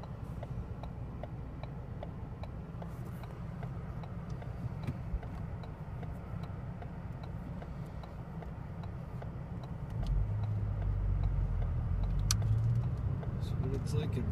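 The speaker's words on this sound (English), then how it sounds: "warming up the car." A car engine idles steadily on a cold 23-degree early morning, a low continuous rumble with faint ticking on top that grows a little louder near the end.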